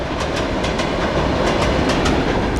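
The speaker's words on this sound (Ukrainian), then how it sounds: "бачимо місцеву електричку" A local electric commuter train passes close by along the Dnipro riverside in Kyiv, producing a loud, continuous roaring rumble with rhythmic clattering of wheels over rail joints.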